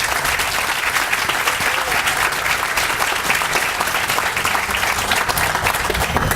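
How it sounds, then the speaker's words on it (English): An audience at a groundbreaking ceremony claps steadily for several seconds, a dense, even wash of applause from a sizable crowd with no pause. "Give the entire delegation a round of applause."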